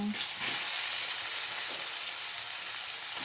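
Chicken frying in a pan for sotanghon, a dense, even sizzle that holds steady and close throughout, with a faint stir near the start.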